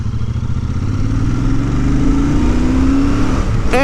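A Royal Enfield Super Meteor 650 motorcycle engine revs up close, its pitch climbing steadily into a loud rising roar before cutting off abruptly at the end.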